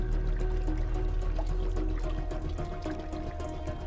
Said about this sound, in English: a rectangular spout directs a measured jet into a stone basin